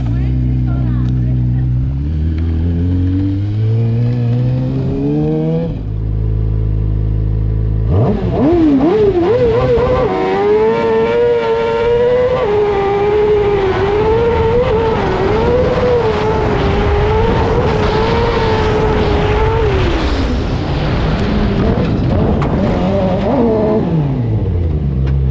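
A rally car on its first trial run at the Larnaka Rally Sprint 2021 in Cyprus: an idling, revving engine, then a loud surge of acceleration with rising gear changes, sustained near and strong, with a voice speaking over it.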